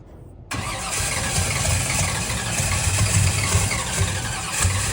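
The Dale truck's engine catches suddenly after a short silence and settles into a loud, continuous, throaty roar with slight throttle swells, close by and with no talking.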